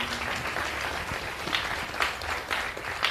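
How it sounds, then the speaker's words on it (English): A business sales workshop audience applauds in a dense, steady wash of clapping that carries on throughout. "Big round of applause, ladies and gentlemen"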